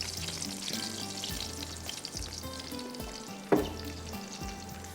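Potatoes and korma frying in oil in a pan, a steady close sizzle with stirring scrapes throughout and one sharp knock partway, no talk.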